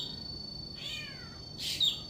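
A mockingbird imitates a cat's meow with two short, high, meow-like calls, faint and outdoors over a steady background hum, no talk.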